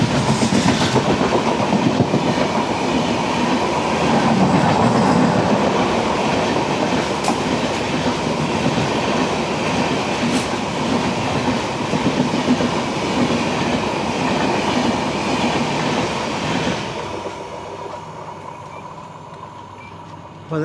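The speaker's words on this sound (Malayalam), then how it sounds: "ചിറ്റൂർ കാച്ചിഗുഡ വെങ്കടാദ്രി എക്സ്പ്രസ് ആണ്." The Chittoor–Kacheguda Venkatadri Express train rolls along the tracks with a loud, continuous rumble and rhythmic wheel clatter. The roar holds steady for a long stretch, then quickly drops away near the end.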